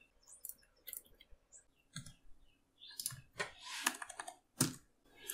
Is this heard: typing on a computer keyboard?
yes